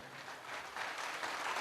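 Audience clapping to welcome a guest at a school annual function, a steady burst of applause that swells slightly louder midway and continues without voices.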